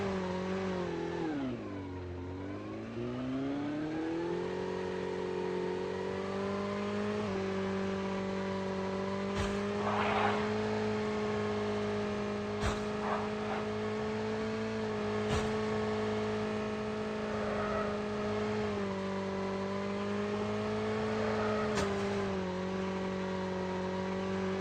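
A motorbike ridden in the Call of Duty Mobile battle royale game, a steady, droning engine note that dips and recovers near the start, with a few faint clicks over the sustained hum.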